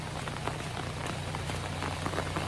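Steady rain falls in Guwahati, a dense, close patter on surfaces with scattered louder drops throughout, continuous and without any voices.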